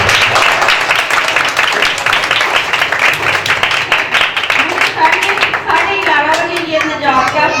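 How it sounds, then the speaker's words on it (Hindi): Vigorous audience applause for a preacher at a Bible college event, loud, close rhythmic clapping that keeps going while a voice begins speaking over it toward the end. "जोरदार तालियां"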